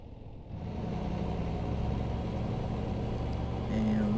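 Truck tires rolling over a rumble strip in American Truck Simulator, a steady, loud low drone and rumble with a continuous engine hum that swells slightly near the end, no talking.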